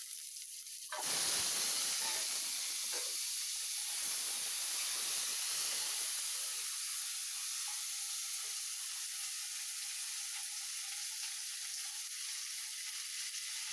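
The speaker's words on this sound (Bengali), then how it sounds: "এখন এই যে আলু ছেড়ে দিলাম।" Potatoes drop into hot oil in a pan and burst into a loud, steady hissing sizzle that fades slightly and settles into a continuous frying hiss, close up.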